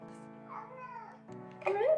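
A cat meows a couple of times close by, drawn-out and soft, over a steady low electrical hum.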